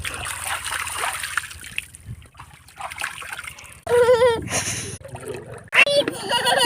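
Children play in knee-deep village water, making splashes and trickling sounds close by, broken by loud shouts and high voices.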